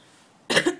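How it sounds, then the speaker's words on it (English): A single rough, throaty cough after a brief quiet moment, close and fairly loud, with a short second hack at the end. "Smoker's cough."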